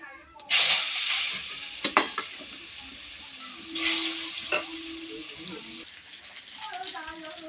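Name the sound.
mangoes and five-spice tempering frying in hot oil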